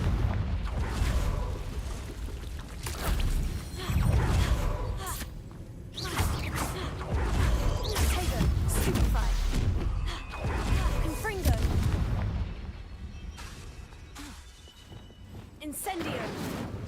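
Fiery blast spells explode repeatedly in Hogwarts Legacy, a run of booming bursts and whooshes across the whole stretch at a steady, fairly loud level, with a voice speaking over the combat.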